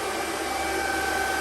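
An Antminer L3+ crypto mining machine runs with a loud, steady fan roar and a constant high whine, unbroken and close.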